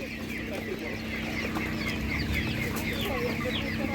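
Czech Dominant chickens cluck at a busy livestock market, with scattered bird calls over a constant murmur of crowd noise and nearby voices talking.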